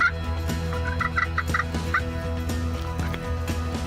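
A wild turkey gobbler gobbles loudly and repeatedly with rapid, rattling calls. The gobbles stand out clearly over a steady background hum, and no one talks.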